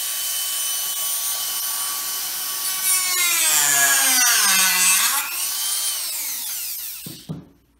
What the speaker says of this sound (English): So I'm gonna go get the Dremel, and we're gonna slice this pump up.